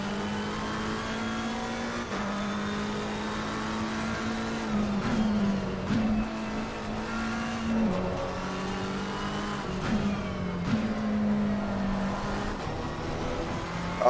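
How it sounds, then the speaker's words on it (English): A Porsche 911 R in Assetto Corsa Competizione racing at St. Petersburg snarls loud and close, its engine rising through the revs with sharp drops at each gear shift, sustained and without talk. "There's a really strong snarl. It's the only way I can describe it with how this car sounds in ACC."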